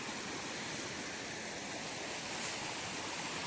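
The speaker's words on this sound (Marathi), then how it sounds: "वड्याला पण पाणी असं भरपूर आलेलं आहे" Steady, full rushing of a rain-swollen stream, a dense continuous roar with no pauses, running close by after heavy rain.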